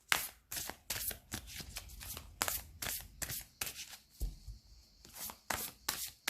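Oracle cards being shuffled by hand, a run of quick, close riffling bursts with short pauses between them, and no talking.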